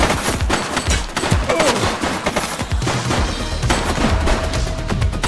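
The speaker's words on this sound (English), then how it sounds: "She's shooting!" Gunfire in the police video game The Precinct: rapid, dense volleys of shots crackling continuously over several seconds, loud and close amid a busy mix of other game sounds.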